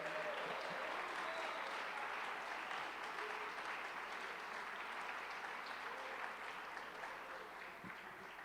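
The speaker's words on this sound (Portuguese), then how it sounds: "Aplauda o Senhor, dê glória ao nome dEle" A church congregation applauds steadily during a Portuguese-language worship service, a faint, even wash of many hands clapping that continues throughout and eases slightly at the end.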